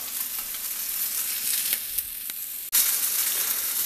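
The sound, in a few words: rice boiling in broth in a cast iron pan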